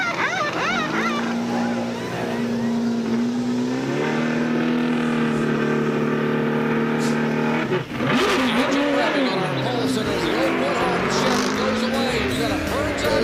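NASCAR stock cars racing in the 2000 Winston 500, engines droning with sustained tones that rise and shift as cars accelerate past the pits, loud and continuous, with a commentator's voice running over the top.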